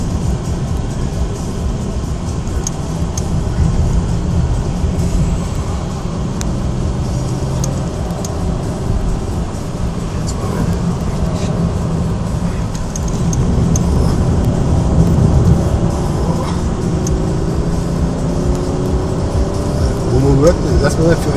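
A heavy two-tonne car accelerating hard at the Nürburgring, heard from inside as a loud, sustained engine drone with rising pitch sweeps near the end and voices talking over it.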